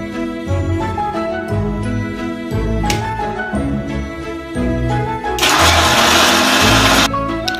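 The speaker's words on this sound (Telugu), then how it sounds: "నానబెట్టుకున్న ఖర్జూరాల నుండి గింజలు తీసేసి మిక్సీ పట్టుకోవాలి." A mixer grinder blends soaked, pitted dates for a nuts and seeds smoothie. Background music plays throughout, and a loud whirring grind bursts in for about two seconds near the end, then cuts off.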